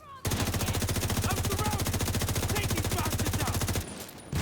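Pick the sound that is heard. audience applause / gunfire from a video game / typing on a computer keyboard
gunfire from a video game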